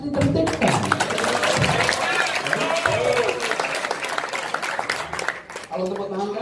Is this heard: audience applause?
yes